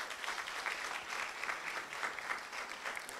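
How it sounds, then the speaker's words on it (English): Audience at a postgraduate health sciences conference clapping, a fairly quiet, steady patter of applause from a modest crowd heard alone for a few seconds. "So a clap for him,"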